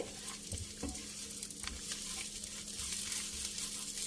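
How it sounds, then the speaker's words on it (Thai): Bacon, about half a cup, stir-frying in a pan until fragrant and crisp, with a steady close sizzle and occasional scrapes and low knocks of stirring; no one speaks. "ผัดให้หอมๆเกรียม ๆ"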